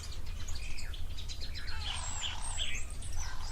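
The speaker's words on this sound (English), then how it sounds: "I hear some go-away birds in the background." Several go-away birds call in the background over a steady low rumble at a waterhole, with scattered chirps and a few clearer, louder calls partway through.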